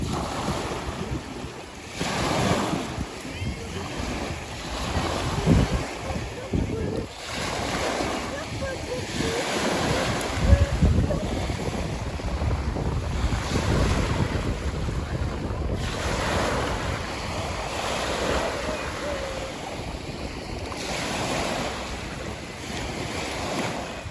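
Strong wind buffets the microphone over steady surf washing onto a beach, loud and continuous, with faint voices now and then.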